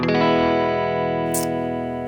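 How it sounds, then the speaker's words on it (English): A single sustained electric guitar chord rings out through an amp with delay and reverb, shimmering and slowly decaying, loud and alone. "So that's what the guitar sounds like."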